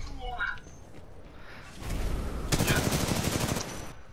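Rapid automatic fire from an assault rifle in Titanfall 2, a dense burst of gunshots with sharper bursts in the second half and a player's voice speaking over it.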